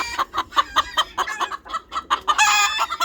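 Chickens clash and cluck in a rapid rhythmic string of loud, close squawks, building into a harsher, sustained shriek near the end.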